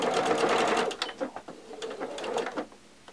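A sewing machine back tacking elastic onto a fabric face mask: a close, loud whirring stitch run that halts, then shorter bursts of needle chatter as the stitching reverses and stops.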